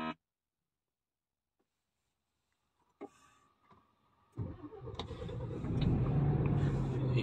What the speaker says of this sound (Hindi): ये लें जी, हमारी गाड़ी होगी स्टार्ट